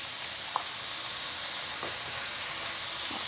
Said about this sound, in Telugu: ఇది వేగుతూ ఉంటాయండి